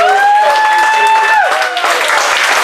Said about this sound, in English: if you would give Miss Dennis a round of applause